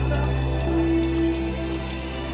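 Heavy early-morning rain falls steadily, a dense continuous patter on surfaces with a faint tonal hum running underneath.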